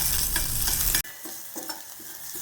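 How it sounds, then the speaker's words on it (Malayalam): Sliced shallots sizzle loudly in hot oil while being stirred in a pan for a Kerala drumstick leaves curry, the frying hiss dropping suddenly and continuing more softly with scraping stirs. "ഉള്ളി ഒന്ന് നന്നായിട്ട് മൊരിഞ്ഞ് വന്നവരെ നമുക്ക് ഇളക്കിക്കൊണ്ടിരിക്കാം."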